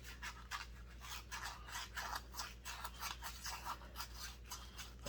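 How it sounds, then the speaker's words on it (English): Sandpaper rubbed by hand along an edge to soften it, a quick rhythmic scratching with steady back-and-forth strokes, close and fairly quiet, with no talking. "I'm just tipping over that edge a little bit with this sandpaper"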